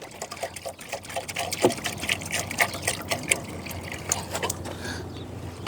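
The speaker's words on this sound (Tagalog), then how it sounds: "maglagay lang din ako ng tubig ni Tagpi." Water being poured into a bowl trickles and splashes in an irregular stream, with small clinks and drips close to the microphone.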